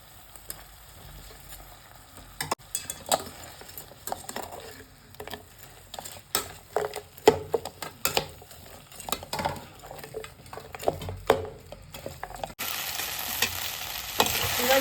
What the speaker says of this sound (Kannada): ಗೋಬಿ ಫ್ರೈ ಮಾಡ್ಕೊಂಡಿದ್ದಲ್ವ ಅದನ್ನೆಲ್ಲ ಹಾಕ್ಕೊಳ್ತಾ ಇದ್ದೀನಿ ಹಾಕ್ಕೊಂಡು ಚೆನ್ನಾಗಿ ಫ್ರೈ ಮಾಡಬೇಕು